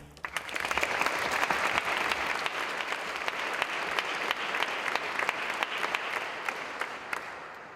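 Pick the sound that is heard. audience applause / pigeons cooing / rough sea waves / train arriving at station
audience applause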